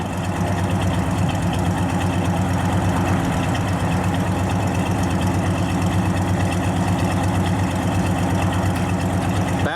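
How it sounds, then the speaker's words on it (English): A 1968 Chevrolet Chevelle Malibu V8 idles steadily through dual exhaust, a close, even, low rumble with a slight lope that holds unchanged throughout. "And nice dual exhaust on it with the correct tips."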